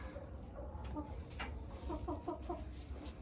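A startled hen clucks in a short run of repeated calls, close and clear over a steady farmyard background hum.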